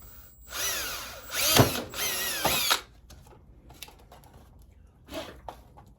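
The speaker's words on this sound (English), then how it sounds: "We'll drill the template, the panel first." A power drill whines in two short bursts, revving up and biting through a sheet metal panel for a trunk firewall on a 1968 Camaro, followed by quieter clanks and handling noises.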